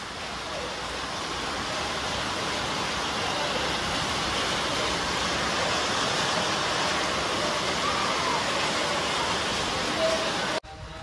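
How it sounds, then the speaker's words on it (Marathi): Heavy rain pours steadily with gusting wind during the season's first downpour, a dense, even roar filling the whole stretch before cutting off abruptly near the end. "मस्त वारा सुटलाय आणि पाऊस पण पडलाय"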